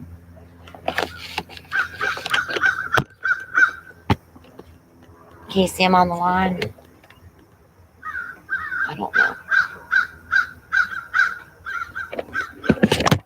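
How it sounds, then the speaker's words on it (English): Crows caw in sharp repeated bursts close by near a power line, the calls coming in clusters with pauses, while people talk intermittently. "These crows are so close."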